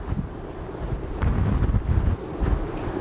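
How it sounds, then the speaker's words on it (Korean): Strong typhoon wind blasts across the harbor at Bomok port in Seogwipo, Jeju, buffeting the microphone in loud, gusting roars as high waves surge over the breakwater nearby; no one speaks. "지금 제가 서 있는 서귀포시 보목항에는 몸을 가눌 수 없을 정도의 강한 바람이 불고 있습니다"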